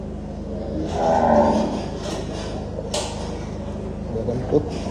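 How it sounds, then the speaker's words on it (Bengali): Cattle of around 400 kg each low with one drawn-out, fairly close moo at a farm, over steady barn noise and soft background voices. "এখানে বেশিরভাগই 400 কেজি গরু, 400 কেজির গরু মাশাআল্লাহ"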